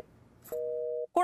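A telephone busy signal sounds on a call as one steady, unbroken electronic tone held for about half a second and then cut off, and a voice begins speaking straight after it.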